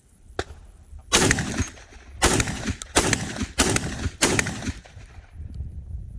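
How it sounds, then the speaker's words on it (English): An SDS Imports BLP M12PT shotgun fires five rounds of buckshot at an outdoor range, five loud, sharp blasts spaced about a second apart, each with a short echoing tail. "we're going to load it up and see if it runs the first 5 rounds without issues"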